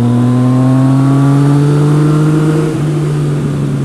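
A Yamaha MT-09 three-cylinder motorcycle engine holds a loud, steady high rev close by, its pitch drifting slightly lower toward the end with no talk over it.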